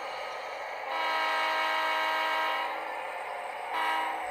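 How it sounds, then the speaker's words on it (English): A fast freight train on a model railroad sounds as a steady rumbling run with a sustained horn-like tone that swells twice, fairly near and continuous, with no voices. "This is a fast freight,"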